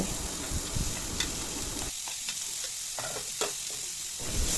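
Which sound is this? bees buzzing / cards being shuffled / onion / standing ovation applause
onion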